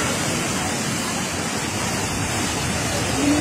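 Floodwater rushing down a street, a steady broad roaring wash of moving water, loud and continuous with no clear breaks.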